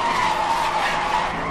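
Car tires squealing through a skid in the racing game Need for Speed Hot Pursuit, a loud sustained screech with steady engine roar, no talk over it.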